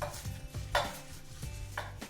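Spinach leaves are chopped with a knife on a board, giving several quick, fairly close chopping knocks at an uneven rhythm, with small clatters in between.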